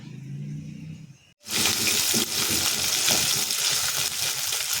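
Shallots and garlic drop into hot oil with fried vadagam. After a short quiet moment, a loud, close sizzle bursts out and stays steady, with faint stirring scrapes and no talking.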